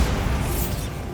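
A Bombarda explosion spell goes off in the Hogwarts Legacy video game, a loud, dense rumbling blast that hangs for about a second before fading a little, with no voices over it.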